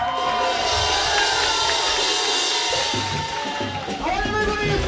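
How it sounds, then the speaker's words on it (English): Crowd at a warehouse show applauds and cheers, a dense, loud wash of clapping with shouts and whoops throughout, voices mixed in the din. "Craig Roy, a round of applause."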